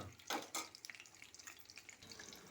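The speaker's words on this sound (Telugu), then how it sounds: "ఉడుకుతున్న శబ్దం" Faint bubbling and crackling of sweet chana dal-filled dumplings deep-frying in hot oil, with a few louder sputters early on, then a soft, uneven sizzle.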